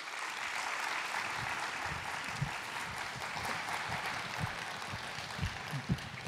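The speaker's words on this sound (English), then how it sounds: "Let's give a big round of applause for Jennifer Rexford and welcome her to the stage." Audience applause at a National Academy of Engineering event as computer networking researcher Jennifer Rexford is welcomed to the stage, a steady dense wash of many hands clapping throughout with a few sharper individual claps near the end.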